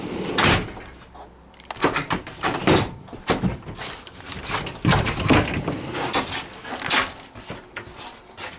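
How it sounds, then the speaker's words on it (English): A pocket door in a 2016 Thor Miramar 33.5 motorhome slides along its track with rolling and knocking noises, several short thumps and scrapes close by, ending with a bump as it settles. "Pocket door for privacy."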